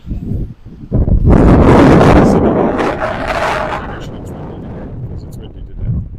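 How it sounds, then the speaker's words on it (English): A loud gust of wind sweeps through a downtown Regina street, rising sharply after a second and then fading into a steadier rush, with a voice briefly heard. "It's windy today."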